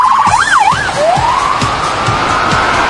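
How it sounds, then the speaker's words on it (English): An ambulance siren near the Rogers Centre in Toronto sounds loud and close, with a quick warbling yelp that sweeps into a long rising wail over a low rumble of traffic. "That ambulance, unfortunately, knows its way to the Rogers Center."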